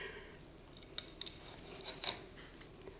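A knife cuts and chops fried, seared beef sweetbreads (mollejas) on a board, giving a few light, sharp clicks and taps at an irregular pace over a quiet background.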